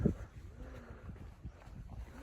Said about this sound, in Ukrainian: трошки вітер дує